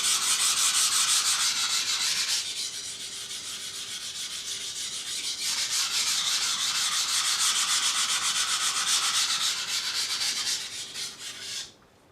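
A kitchen knife blade scraped repeatedly along a KAI or F.DICK honing steel, a steady close rasping and rubbing with short pauses between strokes, continuing alone for about twelve seconds before stopping abruptly.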